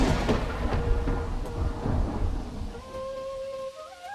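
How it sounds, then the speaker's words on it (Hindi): Loud rumbling thunder rolls over steady heavy rain, with deep booms repeating for several seconds before a tonal sound effect comes in near the end. "अचानक बिजली चमकी और कुछ ही पलों बाद तेज बारिश शुरू हो गई"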